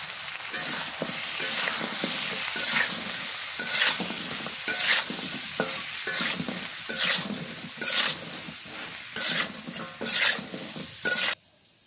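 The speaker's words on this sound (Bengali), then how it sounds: "আমার পটল ভাজি হয়ে গেছে" Pointed gourd (potol) fries in a pan, with continuous close sizzling and a rhythmic series of stirring scrapes and clinks of a utensil against the pan, and no talking.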